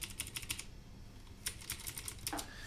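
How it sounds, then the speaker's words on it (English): Keys clack on a Vortex Core 40% mechanical keyboard fitted with clicky Cherry Blue switches, with close, crisp bursts of rapid clicks separated by short pauses. "Now this keyboard is a clicky keyboard."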